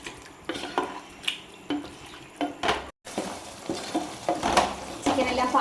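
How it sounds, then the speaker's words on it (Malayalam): Chicken curry is stirred in a cooking pot with a metal spoon, giving repeated scraping and clinking strokes against the pot over a soft sizzle, close and moderately loud, with a brief break partway through. "ഒന്നും കൂടി ഒന്ന് ഇളക്കി യോജിപ്പിച്ച ശേഷം നന്നായിട്ട് വേവിച്ചെടുക്കാം."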